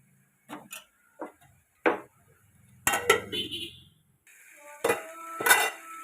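A lid is set onto a cooking pot of egg and drumstick curry, giving a few sharp metallic clinks and clatters among scattered kitchen knocks, close and moderately loud, with a louder rattling stretch near the end.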